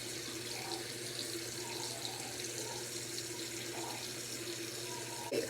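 Tap water runs steadily into a sink during face washing, a continuous close splashing flow with small bursts as hands move through it, ending in a brief splash, no talk.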